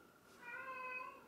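A pet cat gives one drawn-out, plaintive meow that sounds sad, soft and fairly close in a quiet room.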